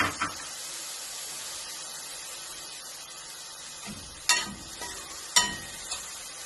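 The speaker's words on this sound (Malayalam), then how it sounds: "എണ്ണ നല്ല ചൂടുണ്ട്. ഇതിലേക്ക് മാഷിലേക്ക് തക്കാളി, പച്ചമുളക് ചേർക്കുന്നുണ്ട്." Tomatoes and green chilies fry in hot oil for a brinjal curry, giving a steady, close sizzle with a few sharp clinks and scrapes as the pan is stirred.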